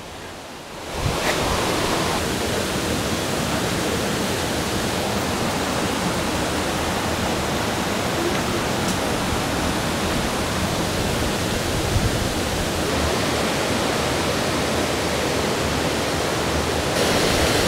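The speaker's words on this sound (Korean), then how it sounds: "이렇게 폭포라고는 할 수 없고 그냥 흐르는 물이죠." Stream water flows steadily at Biseondae on Seoraksan, a dense, even rushing that starts after a brief moment of quiet and carries on without pause, with no voices.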